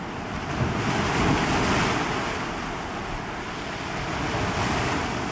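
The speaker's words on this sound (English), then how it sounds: "Oh, I love the sound of those waves." Ocean waves in the fantasy game Pantheon: Rise of the Fallen wash steadily ashore with a broad surf roar and a windy hiss, continuous and fairly loud, with no voices over them.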